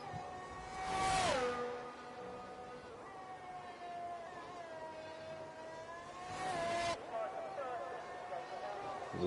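Race car in a video game at the Imola circuit, its engine whine falling sharply twice as it brakes and downshifts into turns, running steadily under continuous commentary.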